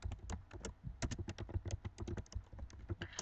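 Rapid keystrokes on a computer keyboard while entering JavaScript code for a website, a dense, steady run of close clicks with no talking.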